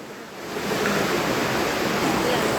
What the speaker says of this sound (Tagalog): We're now in Dao Falls.